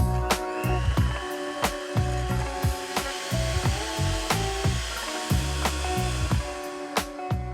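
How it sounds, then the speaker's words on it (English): Thickened cream being whisked to soft peaks, apparently with an electric mixer, giving a continuous motor whine with rhythmic clicking and rattling beaters against the bowl. "we're going to whisk this until we've got soft peaks"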